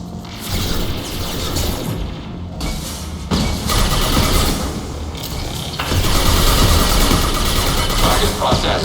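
Overridden defensive turret in Mass Effect 2 firing in sustained mechanical bursts, dense clattering and whirring that steps up louder partway through, amid steady game battle noise with no voices.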